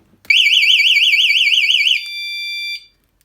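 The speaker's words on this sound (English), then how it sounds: "it's an alarm, it's meant to be loud." Anti-theft alarm on a homemade electric chopper bicycle shrieks with a loud rapid warble, then shifts briefly to a steady piercing tone before stopping, heard up close and alone.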